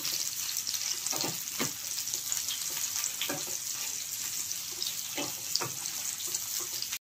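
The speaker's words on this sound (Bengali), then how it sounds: "এটাকে আমি একটু হালকা করে ভেজে নেব।" Chopped onion sizzles and fries in a pan for a Bengali borboti chingri bata dish, a steady loud crackle throughout with occasional stirring scrapes, no voices.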